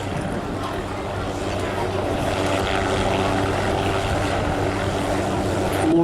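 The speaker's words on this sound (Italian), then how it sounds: "questo avvicinamento lento e quindi l'ammanaggio da parte dell'elicottero, l'ammanaggio e poi il flottaggio in mare" A Guardia di Finanza Nardi Hughes helicopter approaches slowly and settles onto the sea at an air show in Jesolo, its engine and rotor producing a steady, continuous drone that builds slightly toward the end, with commentary heard over it.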